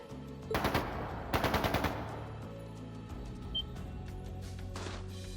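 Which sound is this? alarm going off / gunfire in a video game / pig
gunfire in a video game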